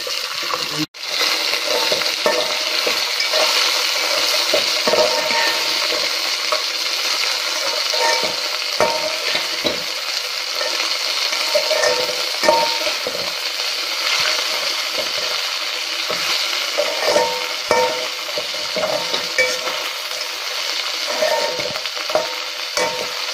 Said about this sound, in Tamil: வறுத்துக்கலாம். நெக்ஸ்ட் இந்த அவலை கொட்டிடலாம்.